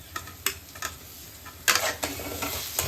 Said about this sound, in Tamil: இப்போ தக்காளியும் நல்லா வதங்கணும்